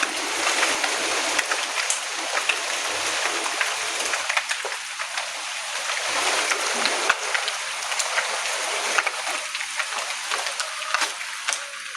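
Heavy rain pours down in a steady, dense hiss, with drops pattering on surfaces throughout and no voices.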